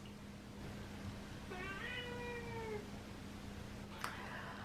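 A single drawn-out cat meow, fairly faint and somewhat distant, over a steady low background hum, followed by a brief sharp tap.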